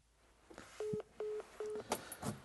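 Ringing alert on a CFMoto Z950 Sport motorcycle's dash: three identical steady electronic beeps in an even rhythm, fairly clear and close, followed by a few soft clicks.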